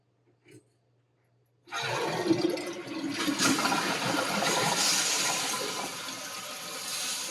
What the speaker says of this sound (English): Have you ever seen people so excited about a flushing toilet?